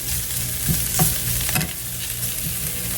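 Spinach wilting in a hot pan, a steady close sizzle with a few soft stirring scrapes, no voices.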